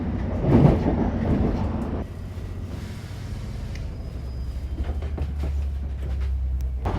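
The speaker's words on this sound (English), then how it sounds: "at least the opening windows mean you get to hear the track joints." Steady rumbling rattle of a Greater Manchester train in motion, heard through opening windows, with rhythmic clacking of wheels over track joints beneath a low continuous roar.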